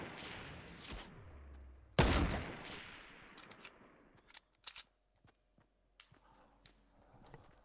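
Gunfire in the Fortnite battle royale game during a snipers-only match: a burst of shots, then a heavy sharp blast with a decaying tail, followed by scattered crisp pops and clicks. No one speaks.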